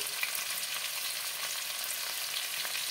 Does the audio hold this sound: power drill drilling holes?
no